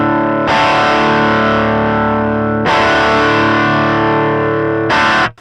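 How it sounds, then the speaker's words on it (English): A guitar through a Line 6 Helix processor with digital overdrive rings out in three loud, fizzy, harsh chords, each left to sustain before the next strike, ending in a quick cutoff. "on top of that overdrive, I don't really hear clipping, but I hear this this fizziness"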